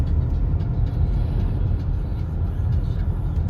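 A car driving out of Uglich and climbing onto a bridge, heard from inside as a steady low road rumble and engine drone with no talking.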